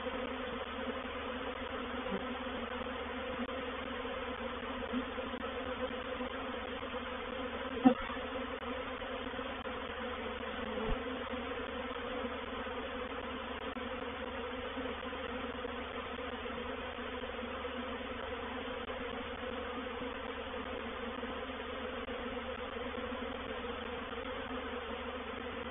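A swarm of honey bees hums continuously at Painted Peacock Manor, a steady, dense buzz lasting throughout at moderate level, with a couple of faint knocks breaking in.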